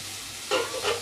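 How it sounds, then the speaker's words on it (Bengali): A spice paste for egg devil hisses and sizzles in a pan as a little water hits it, two short bursts of steam over a faint background hiss, close and fairly quiet. "সামান্য একটুখানি জল দিয়ে মশলাটা আমি কষিয়ে নেব, যেন মশলাটা পুড়ে না যায়।"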